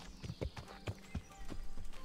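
Hoofbeats from a horse being ridden in Kingdom Come: Deliverance thud in an even rhythm, about eight near, crisp clops in quick succession with nothing else over them.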